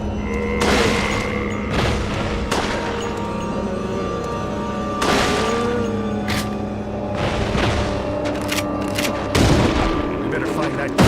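Rapid gunfire blasts at zombies in the Darkside Chronicles video game, with several loud, sharp bursts over a steady rumbling game soundtrack, repeating at irregular intervals throughout.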